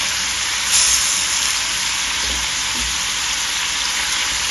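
Tomato sauce sizzles and hisses in a hot pan where beef braciole has been braised, a steady close, loud frying wash with a brief surge near the start.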